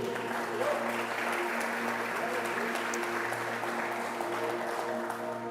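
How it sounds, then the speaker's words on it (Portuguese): A church congregation applauds steadily and evenly throughout, a dense sustained wash of clapping filling the sanctuary, with a low hum beneath it. "Você pode aplaudir essa palavra do Senhor?"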